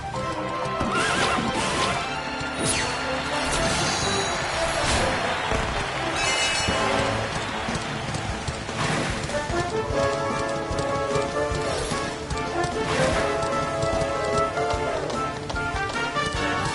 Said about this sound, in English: Consegui a corrida de cavalos.